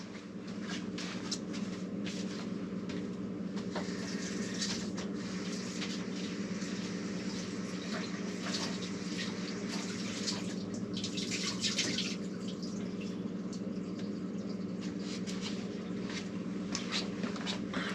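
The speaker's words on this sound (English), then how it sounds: "I'm gonna give it a little rinse." A kitchen tap runs steadily as food is rinsed beneath it, a continuous close rushing of water with small splashy shifts where the stream hits the food, no talking throughout.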